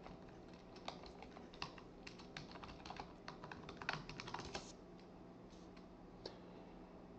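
Typing on a computer keyboard while entering an administrator username and password on a Windows Server 2022 machine, a quiet run of irregular close key clicks with a few sharper taps, no talking.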